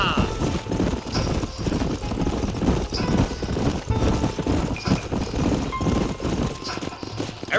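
Horses gallop in Red Dead Redemption, steady clip-clop hoofbeats from several riders pounding along with an occasional whinny, loud and close, with voices talking over them.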